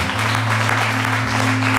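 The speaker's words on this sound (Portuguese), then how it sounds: "Você pode aplaudir o Senhor para ele." A church congregation applauds during a worship service, a dense continuous wash of clapping under a steady low musical drone.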